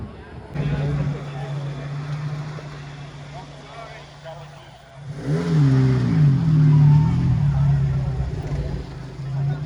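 A Saab turbo with a wide body kit drives past on a canyon highway, its engine note rising and swelling loudly as it nears, over a steady background hum.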